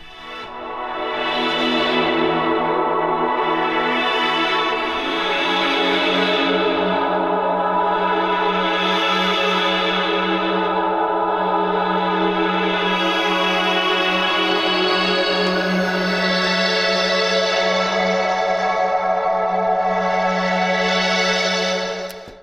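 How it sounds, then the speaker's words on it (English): A sustained, swelling mid-range synth pad from the Vital synthesizer plays steadily for over twenty seconds, its tone slowly shifting and shimmering with echoey texture, no voices. "Next sound is Starsing, which is a kind of mid-range pad."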